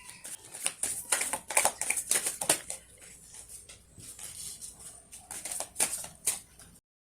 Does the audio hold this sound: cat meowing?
no